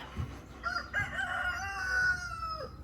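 A rooster crows once in a long, drawn-out call, fairly close, with a few soft clucks and faint rustling around it.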